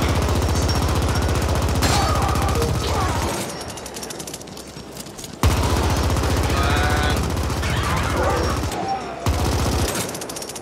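Rapid gunfire from blind firing behind cover in the co-op cyberpunk shooter The Ascent, a loud, dense stream of shots with brief pauses between bursts, nearby and continuous.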